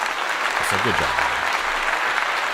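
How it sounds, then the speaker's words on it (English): Applause rings out as a steady wash of clapping through the whole stretch, with a voice briefly audible near the start. "we can give him a little applause here"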